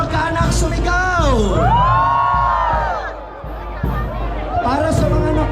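A festival crowd at a Catholic fiesta in Obando, honoring Nuestra Señora de Salambao, shouts and cheers loudly in a sustained roar, with a voice rising above the noise.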